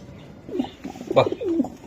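A red Sirazi pigeon, a male, coos close by: a short series of soft, throaty rolling coos over about two seconds.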